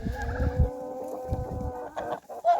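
Several chickens clucking close by in short, repeated bursts in a netted pen beside a barn, with a higher squawk near the end.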